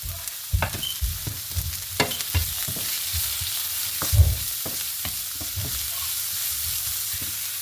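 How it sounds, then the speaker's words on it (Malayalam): Green chillies and curry leaves fry in hot oil for an Angamaly-style pork roast, a steady close sizzle broken by repeated scraping stirs and clinks of a spoon against the pan. "അതോടൊപ്പം തന്നെ ഗ്രീൻ ചില്ലിയും കറി ലീഫും കൂടി ആഡ് ചെയ്ത് കൊടുക്കുകയാണ്."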